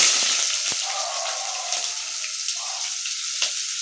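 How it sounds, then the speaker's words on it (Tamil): Chopped onions sizzle in hot oil and ghee inside a pressure cooker for chicken biryani, a steady, loud, bright frying hiss with a few soft pops throughout. "அப்படியே ஹீட் ஆன உடனே நம்ம எடுத்து வச்சுருக்க வெங்காயத்தை இதில் போட்டுக்கலாம் ஃப்ரெண்ட்ஸ்"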